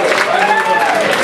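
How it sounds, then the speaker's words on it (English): An audience claps for a raffle prize winner at a battle of the bands event, steady applause with some voices mixed in over the crowd. "Katie May Riley, give Katie May a big round of applause."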